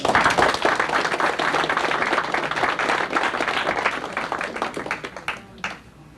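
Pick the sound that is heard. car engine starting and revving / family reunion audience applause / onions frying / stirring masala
family reunion audience applause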